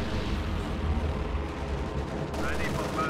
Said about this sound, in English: Anti-infantry strafe coming in on this blob may force that retreat.